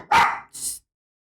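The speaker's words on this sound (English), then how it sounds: "She went from dead asleep to barking at the neighbor's bark." A pet dog named Rio barks once loudly at close range, answering a neighbor's dog, then gives a shorter, higher yip before falling quiet.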